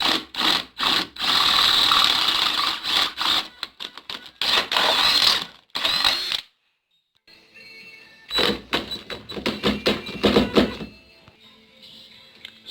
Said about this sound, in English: We're going to drill that out to 1/2 inch